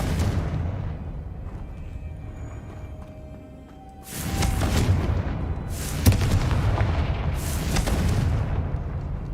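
Explosive spell bursts cast in the video game Hogwarts Legacy: after a quiet stretch, a loud blast hits, followed by two more booming explosions with rumbling tails, close and strong, with no talk.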